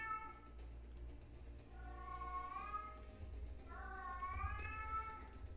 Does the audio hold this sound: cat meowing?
yes